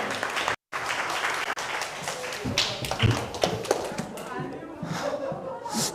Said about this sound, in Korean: 우리 앞으로도 수고할 민혁이한테 시상 박수 한번 주세요